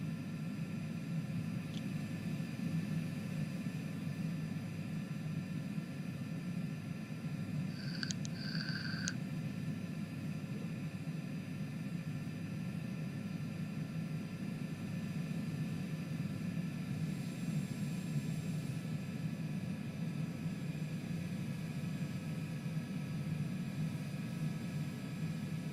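A Cessna Longitude jet taxiing in Microsoft Flight Simulator 2020, a steady, even engine whine and rumble droning throughout, with a few faint short electronic beeps and no speech.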